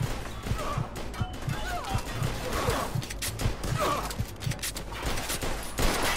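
Rapid gunfire in a shootout from the video game Mafia 2 Definitive Edition, with repeated sharp shots popping in an irregular rhythm under continuous game noise and ongoing talk.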